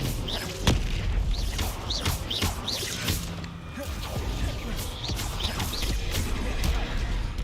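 Confringo and Bombarda spell explosions in the video game Hogwarts Legacy, repeated booming blasts and crashes with whooshes, dense and loud, with a voice shouting over them.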